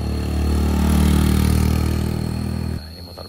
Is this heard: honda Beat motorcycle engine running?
yes